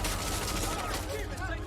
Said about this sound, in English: Just bust down the door and start shooting